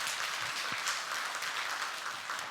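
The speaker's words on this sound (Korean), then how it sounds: "박수 한번 쳐주세요" Steady applause from a church congregation, a dense wash of clapping that stays even throughout.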